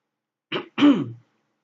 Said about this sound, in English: clear my throat out